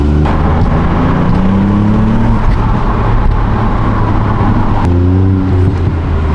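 A 2022 Ford Puma ST on its stock exhaust drones steadily down the road, heard loud from inside the cabin, its engine tone rising through a gear, then a brief lift and another gentle climb.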